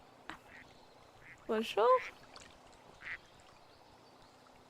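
Ducks quack in a short burst of a few raspy calls, fairly near, with a couple of softer quacks before and after, while a person briefly speaks.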